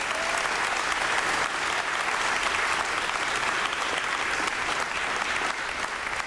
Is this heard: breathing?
no